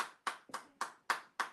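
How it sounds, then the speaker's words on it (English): Six sharp hand claps spaced fairly evenly, close and fairly quiet, a small round of applause for a birthday with no other sound around them. "Round of applause."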